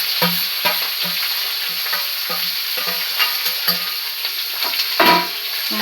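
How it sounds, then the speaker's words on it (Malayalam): Chopped green beans stir-fry in a pan, with a steady loud sizzle broken by repeated rhythmic scrapes and taps of a spoon stirring the mix. "നമുക്കതിലേക്ക് ബീൻസിന് എല്ലാം കൂടെ അരിഞ്ഞ് കൂട്ടി വെച്ചിരിക്കുന്ന മിക്സ് നമുക്ക് ബീൻസ് ഇട്ട് കൊടുക്കാം"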